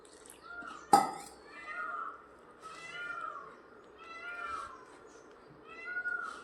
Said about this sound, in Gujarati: જો આ મોર બોલે છે, અમારા ઘરની પાછળ છે,